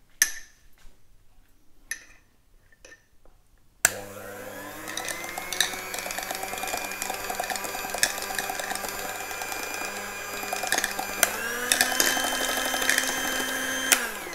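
Electric hand mixer whipping cream to make butter starts with a sudden steady motor whir after a few faint knocks, close and loud, holding a continuous buzzing drone with a slight pitch rise toward the end.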